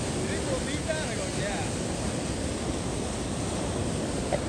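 Large volume of water rushing steadily at a lake pumping station, a dense continuous roar with no breaks, heard close and loud throughout.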